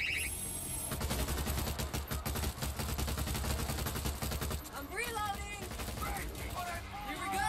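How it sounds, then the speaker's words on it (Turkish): An automated turret rattles off rapid continuous bursts in World War Z, dense machine-gun fire dominating most of the stretch, fading into scattered shots while a player talks and exclaims. "Taret iyi iş görüyor."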